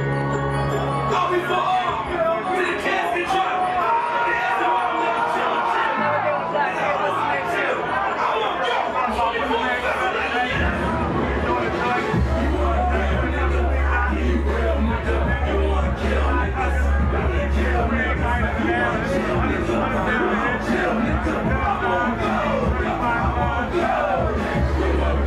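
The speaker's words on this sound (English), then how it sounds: "This what the crowd look like." Crowd at a live rap show, a dense, continuous babble of shouting and cheering fans over pounding heavy bass from the music, loud and close, with people talking throughout.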